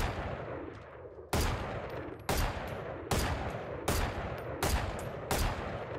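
Rapid weapon fire in the game Valorant sounds out as seven loud, evenly spaced shots, each a sharp crack with a ringing decay, arriving roughly once per second after a quieter opening.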